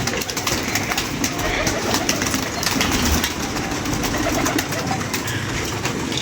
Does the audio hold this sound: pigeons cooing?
yes